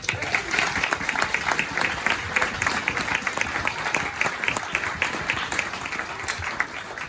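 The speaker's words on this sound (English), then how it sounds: "Round of applause" Audience applause at a golf charity speakers' event, dense continuous clapping from a crowd, close and steady throughout with no break.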